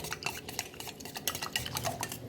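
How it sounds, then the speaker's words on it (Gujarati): A spoon stirs gram flour batter for kadhi in a bowl, making quick, continuous scraping and tapping strokes close by with no talking. "ચણાના લોટના ગાંઠા ન રહે એ રીતે બધું મિક્સ કરી દેવાનું છે"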